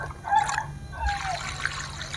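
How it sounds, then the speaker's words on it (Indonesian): Water poured from a bucket onto a potted bougainvillea, a soft trickling and splashing that rises and falls in short surges, close and fairly quiet with no talk. "Saya lakukan penyiraman sebanyak mungkin, teman-teman ya. Satu ember ini kita habiskan untuk satu pot ini."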